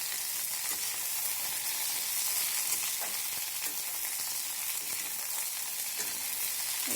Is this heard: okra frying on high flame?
yes